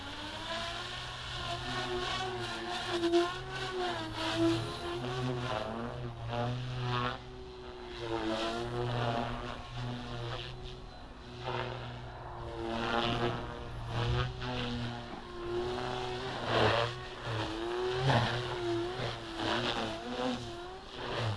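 An OMPHOBBY MultiStar RC helicopter with a three-blade Triblade head and 8108 main motor flies 3D aerobatics, its rotor whine rising and falling continuously in pitch, fairly faint and steady throughout.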